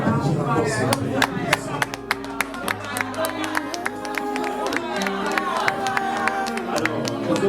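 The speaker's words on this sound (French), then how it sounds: "Est-ce qu'on peut au moins applaudir encore s'il vous plaît?" An audience applauds and cheers at an official launch event for a TV series, with steady, dense clapping throughout, loud and close, while voices carry over it.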